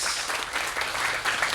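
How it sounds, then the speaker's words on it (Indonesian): A church congregation breaks into brief, even applause, a soft wash of many hands clapping together at moderate distance. "Berikan tepuk tangan buat Tuhan."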